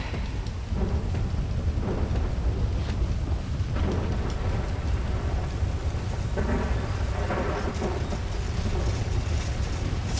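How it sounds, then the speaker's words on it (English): Rain and thunder in GTA 5 stormy weather, a steady dense hiss of rainfall with deep rumbling thunder rolling underneath throughout, loud and continuous with no voices. "Thunder weather conditions"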